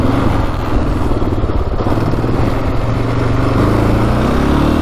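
A production quad engine idles steadily and loudly up close, with a constant low throbbing rumble and a slightly uneven, low idle.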